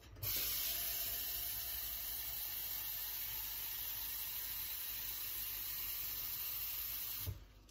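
A steady stream of water, about one and a half litres, pours into a Thermomix bowl holding marrow bone and vegetables for pot-au-feu. It runs as a continuous, fairly quiet rushing hiss for about seven seconds and then stops abruptly.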